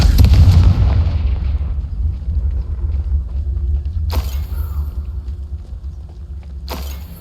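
A Confringo fire-blast spell in Hogwarts Legacy bursts with a loud boom that decays into a low rumble, then two further sharp cracks ring out, the last near the end.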